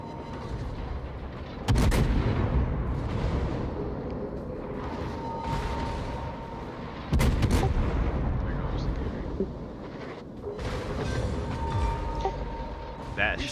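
Heavy naval gunfire from a Des Moines cruiser in a warship video game: two big booming salvos crash out several seconds apart over a constant roar of battle noise and engine rumble.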